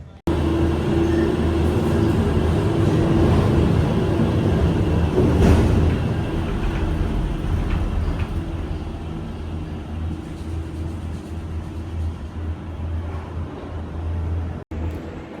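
A Disney Skyliner gondola cabin glides along with a steady, loud low rumble and mechanical hum that holds throughout, with a brief swell midway and a sharp dip near the end.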